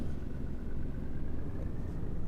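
AI traffic cars driving by in Euro Truck Simulator, a steady low engine hum from road vehicles that stays constant and moderately quiet throughout, with no talking.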